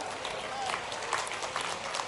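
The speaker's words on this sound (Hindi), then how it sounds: "तो जब आप इतने प्रेम से ताली बजा के बात का समर्थन कर रहे हैं" Steady clapping from a large crowd at an outdoor political rally in Khandwa, a continuous even patter of applause heard at moderate distance throughout.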